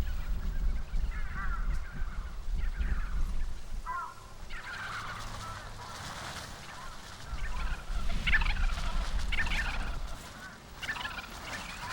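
A wintering flock of cinereous vultures gives off scattered, harsh honking and gobbling calls, with several birds calling from different distances over a steady low rumble that lasts throughout.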